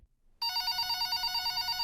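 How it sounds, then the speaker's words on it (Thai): A telephone in a horror video game starts ringing abruptly after a brief quiet, giving a continuous bright trilling ring that holds steady at a moderate level. "มีเสียงโทรศัพท์อีกแล้ว"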